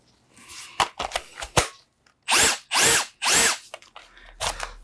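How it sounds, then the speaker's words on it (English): A Makita DTW300 impact wrench with a gearbox fault, opened up for repair, runs its motor on battery in short bursts: several brief trigger pulls, then three longer whirring runs that speed up and slow down, loud and close. "I'm going to grab a battery and just check the motor's okay before I go any further with this."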